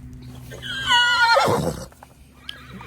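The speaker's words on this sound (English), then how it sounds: "He has the worst neigh also." A large horse in an arena gives a single close, high whinny that breaks and trails off, followed by quiet.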